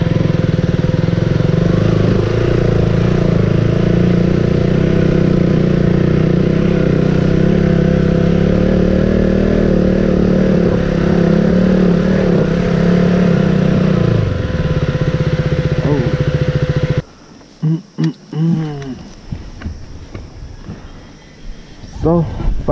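A motorcycle engine idles close by on a mountain road trip, a steady low rumble that holds for about fifteen seconds, then drops away as the engine stops and people speak.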